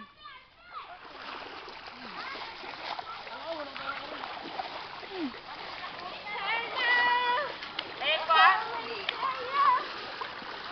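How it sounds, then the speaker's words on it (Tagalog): Water splashing and gurgling in a flooding spot with a hole, with children talking and shouting over it, splashes growing louder and more frequent toward the end. "Ayan na po ang tubig."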